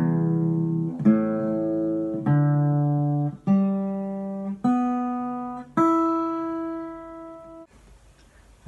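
Six guitar strings are plucked one at a time from the lowest to the highest. Each note rings clearly and decays before the next, in an evenly spaced rising sequence, alone and with no talking.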